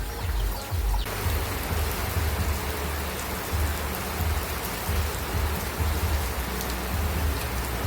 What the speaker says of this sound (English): The rain falls down,